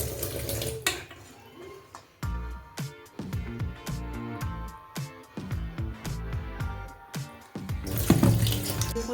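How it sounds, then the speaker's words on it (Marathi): Water runs from a tap into a kitchen sink while finely chopped dill leaves are rinsed by hand, with splashing, sloshing and occasional clinks of a vessel, moderately quiet and close, with no one talking. "तिला आता आपण स्वच्छ धुवून घेऊया।"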